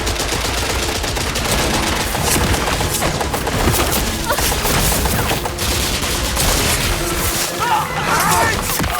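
Soldiers' gunfire in the Indiana Jones and the Great Circle video game, a dense continuous fusillade of rapid shots and impacts, loud and close, with shouted voices mixed in.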